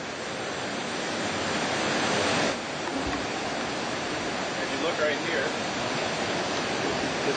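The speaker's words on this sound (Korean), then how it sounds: "가까이 있는 폭포 소리에 귀가 멀 정도입니다." A waterfall in the Costa Rican forest roars close by, a loud, dense, continuous rush of falling water with no break, steady throughout.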